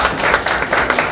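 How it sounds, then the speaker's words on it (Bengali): An audience at an achievers' felicitation ceremony for honours students claps loudly in a dense, continuous burst of applause, close and full throughout the brief moment. "স্যারের জন্য আরেকবার সজোরে করতালি"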